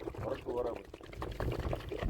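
Water pours and trickles out of the belly of a live river fish, a wet splashing stream under ongoing nearby speech.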